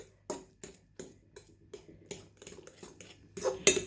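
A spoon stirs sugar into mashed banana in a bowl, clinking against the sides in a steady rhythm of light taps that grow quicker and louder toward the end, close and with no talking.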